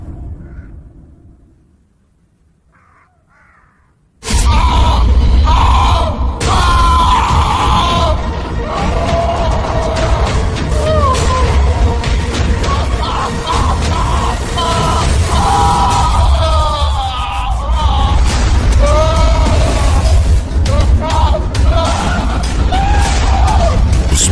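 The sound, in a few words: man screaming in horror story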